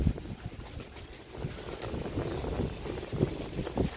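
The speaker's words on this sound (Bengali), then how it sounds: "খুব বাতাস হচ্ছে," Strong wind gusts across a rooftop vegetable garden, a rough buffeting roar against the microphone that rises and falls, with faint rustles and knocks underneath and no voices.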